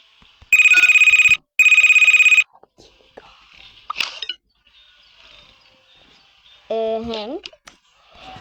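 A Toca Boca video game phone rings in two loud electronic bursts, each about a second long, followed by softer clicks and a short rising chime.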